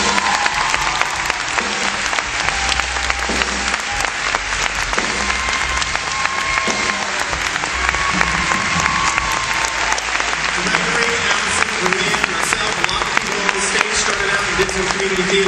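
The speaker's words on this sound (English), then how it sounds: "Give them a round of applause." A theater audience gives a community theater group a sustained round of applause, dense steady clapping from a large crowd throughout, loud and continuous.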